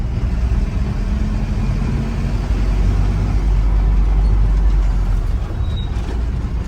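A Mahindra pickup truck engine runs loud and steady at close range as the truck turns left, a low, continuous rumble with no talk over it.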